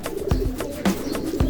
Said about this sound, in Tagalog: ito na yung mga ibon natin galing sa ronda.